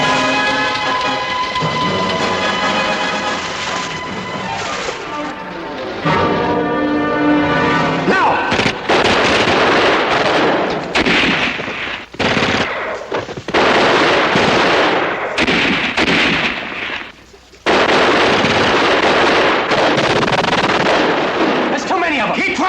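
Gunfire and explosions fill a night-patrol battle scene in the TV war drama Combat, with repeated bursts of rifle shots and heavy blasts, loud and close, broken by shouted speech and brief lulls.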